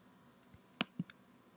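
Computer mouse clicking, a few quiet sharp clicks including a right click, spaced out and close with no talking.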